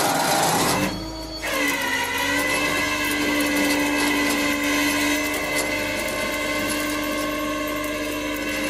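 A winch on a flatbed wrecker pulls through a Bailey side puller, giving a steady whining mechanical drone that holds nearly constant for about eight seconds after a brief dip at the start.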